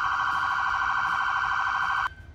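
A police siren on its piercer tone, a very fast warbling electronic whine held steady and loud, alone without voices, stopping abruptly just before the end.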